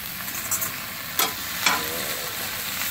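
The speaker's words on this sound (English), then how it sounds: "We got the skillet nice and hot before we put the Brussels sprouts in here." Brussels sprouts sizzle steadily in a hot oiled skillet set on an outdoor grill, a soft continuous fry with a few brief scraping stirs cutting through.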